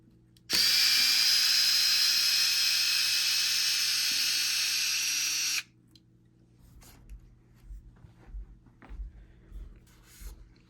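A power driver removes a screw from the suspension of a Traxxas X-Maxx RC truck, giving one loud steady whir of about five seconds, followed by quiet handling clicks and light knocks.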